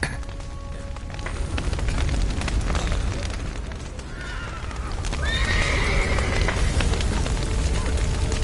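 Video-game horses neigh and whinny over heavy hoof clip-clop and a deep rumbling bed, with a long high whinny rising clearly in the second half, loud and close throughout.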